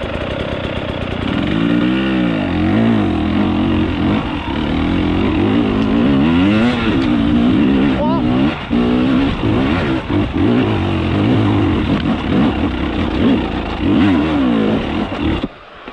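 A Husqvarna 300 TEi two-stroke dirt bike with a remapped ECU revs loudly and close by, its engine note rising and falling through repeated blips and sustained high revs with no talk.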